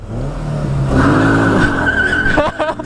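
A 2017 Kawasaki Z125 Pro pulls off hard alongside other riders, its small engine revving up in a rising drone with tyre noise mixed in, close and loud, then chopping off into short bursts near the end.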